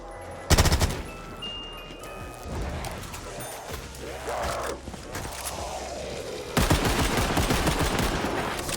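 Gunfire in Call of Duty Zombies: a sharp burst of automatic fire opens the scene, a stretch of quieter game noise and movement follows, then a second loud sustained volley of rapid shots closes it out.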